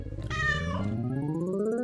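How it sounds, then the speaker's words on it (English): Cat meowing in the Spirittea video game, a single clear, close drawn-out meow that rises in pitch and then stretches into a long trailing call, alone without talk. "you'll always have Radish the cat!"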